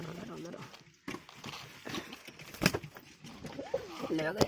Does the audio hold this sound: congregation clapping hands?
no